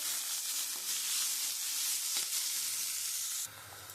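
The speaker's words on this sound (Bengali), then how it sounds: "আমি পেঁয়াজটা একটু লাল লাল করে ভেজে নিয়েছি" Chopped onion sizzles in hot oil in a pan for Bengali radish and puti fish curry, a steady close hiss with a brief stirring scrape, then a sudden drop in the sizzle near the end.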